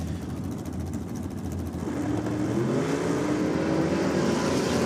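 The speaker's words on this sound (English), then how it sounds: "Lifting the front wheels there for Bonello." A drag racing car makes a run at the East Coast Thunder event, its engine a loud, sustained roar that builds and swells after the first couple of seconds, heard alone without talk.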